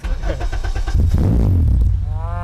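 A Honda Civic Coupe with a K24 engine revs up loudly with a rumbling exhaust note, the roar swelling and then settling into a steady growl.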